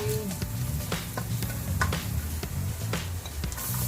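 Garlic frying in a pan until golden brown for sautéed chayote, with a steady close-up sizzle and crackle and occasional soft stirring scrapes throughout.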